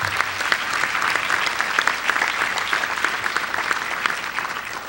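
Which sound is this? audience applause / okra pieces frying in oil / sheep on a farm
audience applause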